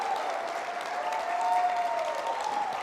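A church congregation at a Spanish-language sermon applauds, a steady, sustained wash of many hands clapping that stays even in loudness for about three seconds with no speech over it.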